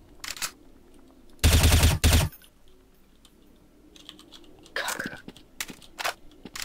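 Gunfire in the video game Counter-Strike: a loud burst of rapid automatic shots, a second burst soon after, then scattered quieter shots and clicks, with a player's voice talking between them.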